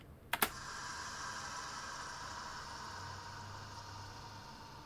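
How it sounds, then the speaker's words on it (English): A processed recording of a spinning art supply Lazy Susan, shaped into a white noise riser: two brief clicks open it, then a faint, steady filtered hiss sustains to the end. "I just kind of made it sound like a white noise riser"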